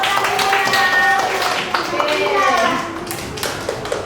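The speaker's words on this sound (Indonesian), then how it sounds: "Tepuk tangan buat Lila, Alaris, dan Maryam sudah menjawab pertanyaan" A group of children claps in a steady patter of quick hand claps that taper off toward the end, in a lively classroom with some voices mixed in.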